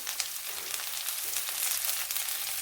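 Two medium sliced onions sizzle steadily in a pan with salt for a vegetable biryani, a close, even, bright crackle with no talk.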